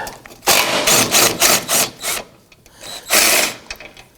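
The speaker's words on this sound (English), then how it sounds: "Now on the other side, I'm going to start with the bottom bolt." A hand ratchet clicks in quick, uneven bursts while loosening the bottom bolt of a rear bumper impact absorber on a 2018-2024 Toyota Camry, loud and close with short pauses between strokes.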